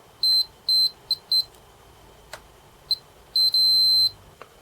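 A continuity tester beeps in short electronic bursts while probing cable wires on an Atari ST UltraSatan hard drive emulator, uneven single and double chirps followed by one longer tone, with faint clicks between.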